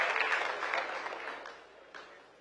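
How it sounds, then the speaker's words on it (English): Steady applause from a crowd at a panel discussion, loudest at the start and gradually thinning out over a couple of seconds. "Give them a great round of applause."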